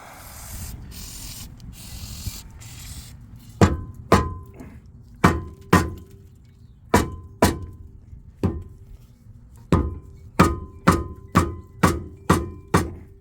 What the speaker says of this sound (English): You're very, very limited as to where you can hit this rotor from the back.